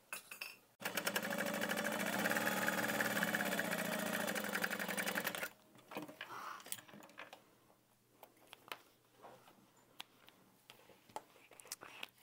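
A domestic sewing machine stitches the bottom panel of a fabric tote bag with rainbow thread, running fast and steady for about five seconds up close. Quiet handling clicks and rustles follow once it stops.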